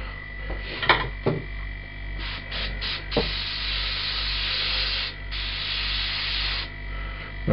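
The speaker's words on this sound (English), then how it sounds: "Okay, so I'm going to start the compressor up." A running air compressor feeds a spray gun used for painting, making a sustained hissing rush of air that swells in bursts and settles into a long continuous spray, with a low steady mechanical hum beneath.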